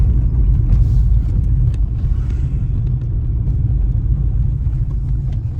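Mahindra XUV300 SUV climbing a narrow, curvy mountain road, its engine and road noise a steady, loud low rumble throughout with no pauses.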